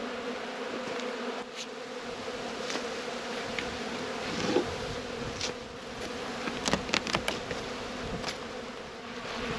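Honey bees swarm and drone around an opened white hive during a late-season inspection, a steady close buzzing with individual insects zipping past the microphone.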